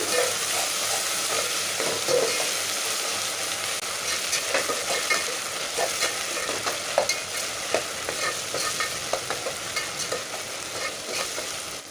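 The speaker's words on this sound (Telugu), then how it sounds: "రెండు టేబుల్ స్పూన్ అయితే అల్లం వెల్లుల్లి పేస్ట్ వేసుకున్నాను అల్లం వెల్లుల్లి పేస్ట్ ఫ్రై అవ్వాలి" Onions, green chilies and two tablespoons of ginger garlic paste fry in a pan for a chicken pulao, a close, steady sizzle with repeated scraping stirs and soft clinks, no speech.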